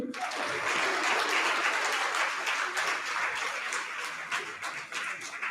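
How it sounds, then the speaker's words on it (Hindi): Seminar audience in a college auditorium applauding to welcome students and research scholars, a loud, dense wash of many hands that swells at the start and then tapers slightly over about five seconds. "आप ताली बजाइए"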